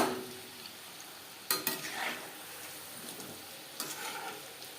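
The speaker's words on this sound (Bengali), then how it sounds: "যেহেতু মুগ ডাল রয়েছে একটু সাবধানে ভাজতে হবে নাহলে ভেঙে যাওয়ার সম্ভাবনা থাকতে পারে" Moong dal puli frying in a pan, a steady broadband sizzle with a few sharper scraping clatters as the pieces are turned, close and alone with no talk.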